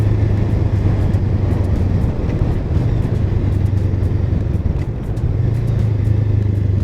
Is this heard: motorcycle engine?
yes